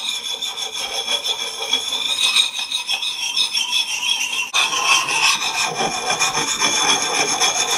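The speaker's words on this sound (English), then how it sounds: "We're just polishing the file marks out." Axe edge being polished to remove file marks, a close, continuous rasping rub in circular strokes with light to moderate pressure, growing a little louder and harsher partway through.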